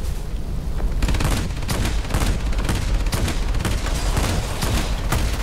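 Rapid machine-gun bursts from a rear gunner aboard an XP-58 Chain Lightning in the World of Warplanes video game, a dense, loud rattle of overlapping shots running almost continuously after the first second.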